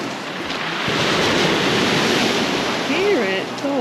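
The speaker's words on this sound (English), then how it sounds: "If you sit and listen to the waves, it actually sounds like rounds of applause as the large waves pull back and batter the stones." Large waves on a Cornish pebble beach at Porthoustock dragging back over stones, a loud continuous roaring hiss like applause, close and dominant, with birdlike chirps near the end.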